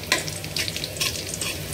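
Onion dropped into a hot pan fries with a close, crackling sizzle and scraping stir strokes, a sharp burst at the start and steady frying noise throughout with no talking.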